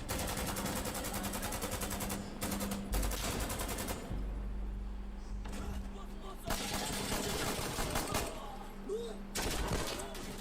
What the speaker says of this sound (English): It's violent and metallic, with the bang of each shot, but also the bolt sliding back and shells ejecting.